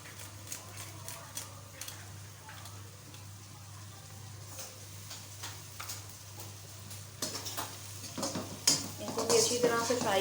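Fresh ginger and garlic fry in a pan for aloo anday tikki, a steady soft sizzle with scattered clinks and scrapes of a utensil stirring, growing busier and louder toward the end.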